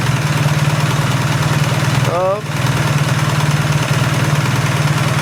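An engine idles steadily with a low, pulsing throb throughout, a brief voice cutting in partway.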